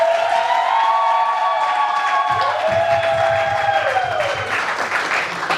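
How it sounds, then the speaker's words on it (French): At a wedding ceremony, guests applaud the newlyweds while sustained musical tones play over the dense clapping, which swells and thins slightly over several seconds. "Veuillez applaudir s'il vous plaît pour les mariés."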